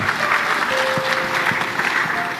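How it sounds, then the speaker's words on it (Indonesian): Steady applause fills a hall during a family-themed Indonesian talk, a crowd clapping continuously and fairly close, with no speech over it. "Tepuk tangan buat bapak-bapak utamanya."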